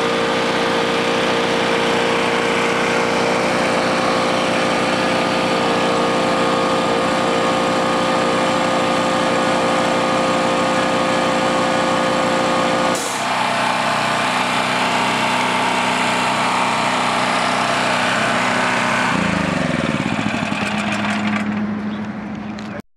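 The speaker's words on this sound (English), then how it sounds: "In order to speed the engine up to overcome the load that the compressor is placing on it." A small gasoline engine runs steadily and loud under the load of an air compressor, its even drone shifting pitch partway through as the speed changes, then winding down near the end, with no talk over it.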